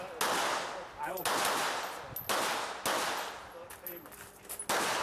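Pistol shots ring out in quick bursts during an IDPA shooting match stage at an outdoor wildlife club range, several sharp reports spaced about a second apart, fairly distant with echo.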